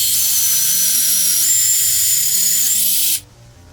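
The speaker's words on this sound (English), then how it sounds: "we'll pre-drill the holes with a 3/16 drill bit on the studs" A power drill with a 3/16 bit whines steadily at high pitch for about three seconds while pre-drilling holes into wall studs, close and loud, then cuts off abruptly.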